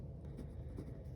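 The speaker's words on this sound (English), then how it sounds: "I just write down the dates first" A pen scratching on paper while writing dates for a monthly budget, soft continuous strokes close by and quiet.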